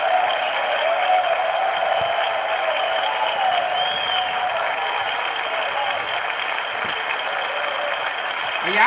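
A dense, sustained wall of applause fills a congressional chamber as the audience claps and stands, steady and loud throughout with faint crowd noise mixed in.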